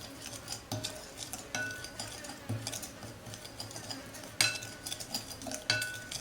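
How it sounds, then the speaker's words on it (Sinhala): A spoon works chilli flakes, chilli powder and salt together in a bowl, giving scattered close clinks and light scrapes of metal against the dish in an irregular rhythm, fairly quiet overall. "අපි ඒ ටික දාලා කලවම් කරගමු."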